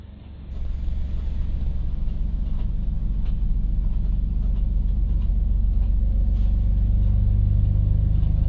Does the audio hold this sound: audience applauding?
no